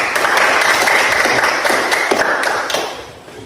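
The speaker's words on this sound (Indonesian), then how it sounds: "kita tepuk tangan untuk kelompok 1" Classroom applause for a group of students stepping up to present, a dense burst of clapping from a room of classmates that holds steady and then fades slightly toward the end.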